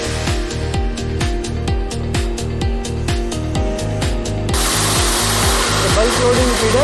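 A multi-spindle rotary indexing drilling machine runs with a steady, rapid mechanical clatter and hum, then a loud hissing, grinding noise joins partway through as it drills.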